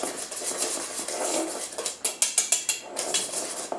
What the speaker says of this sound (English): we're just going to whisk this all together